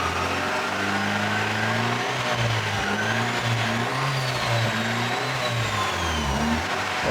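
A Honda D16 car engine drones steadily while being run up through its gears after warming up, with pitch rising and dropping as the revs change, continuous and close with no voices.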